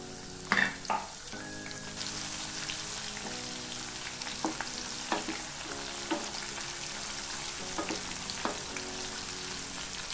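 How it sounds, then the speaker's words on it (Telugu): Asafoetida and crushed garlic tempering crackle and sizzle in hot oil, with bursts of popping and the scrape of stirring against a pan. "పోపు బాగా వేగింది"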